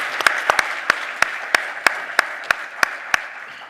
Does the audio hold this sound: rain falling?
no